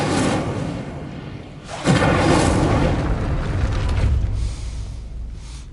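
A fire spell in Hogwarts Legacy goes off as a whooshing, booming burst near two seconds, then rumbles and crackles for several seconds inside an enclosed space.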